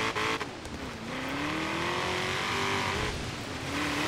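A Ford Shelby GT350R Mustang engine in the video game Forza Horizon 3 drones steadily, dipping and climbing in pitch as it shifts, with a brief burst of noise at the start.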